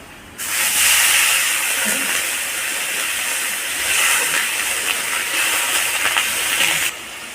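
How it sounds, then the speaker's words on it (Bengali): Water poured into a hot pan of fried potatoes sets off a loud, sustained steam hiss that starts abruptly, holds for about six seconds with slight surges, then cuts off. "আলু ভাজা হয়ে গেছে এবার আমি অল্প পরিমাণে জল দেব"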